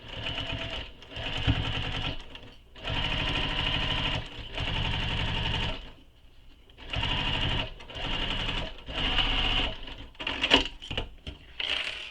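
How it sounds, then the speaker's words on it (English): A sewing machine stitches a quiver sling in several loud bursts of rapid mechanical whirring, separated by short pauses, with no talking. "And don't forget to backstitch at start and stop."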